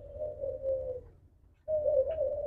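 Diamond doves cooing at a dove farm, soft steady coos in two runs separated by a brief pause, close and fairly quiet, with no voices.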